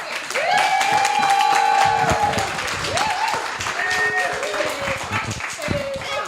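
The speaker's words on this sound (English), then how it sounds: "let's first give a round of applause for April Harper for the first story" An audience at a fundraiser improv show gives a round of applause for a storyteller, loud dense clapping with some cheers and overlapping voices, gradually thinning toward the end.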